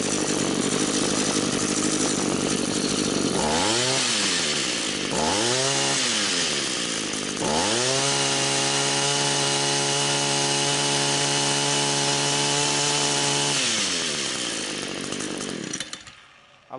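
Two-stroke string trimmer engine revving hard three times in short bursts, then holding a steady high-RPM scream for several seconds before dropping off, loud and close with no talking.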